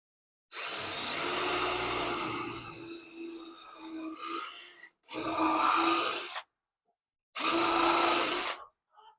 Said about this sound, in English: Drill that hole out.